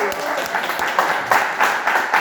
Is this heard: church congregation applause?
yes